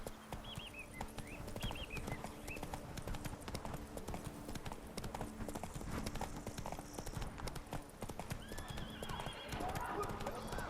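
Hoofbeats of Roach, a horse in The Witcher 3, clip-clop steadily at a gallop throughout, with whinnies and a snort, under ambient game sounds and occasional voices.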